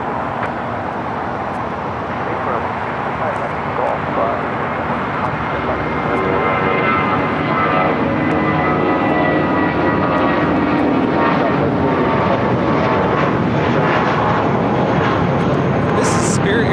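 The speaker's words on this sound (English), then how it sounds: "This is Spirit Airlines 387 taking off to New Orleans on the A320." A Spirit Airlines Airbus A320 takes off at LAX, its jet engines building into a loud, sustained roar that swells and fills the whole stretch, with radio chatter and voices faintly underneath.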